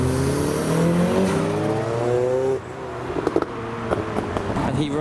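A tuner car slides sideways at a Japanese car meet in Reading, its engine revving loudly and steadily while tires squeal through the drift, then a brief drop before revving bursts and other engine noise resume.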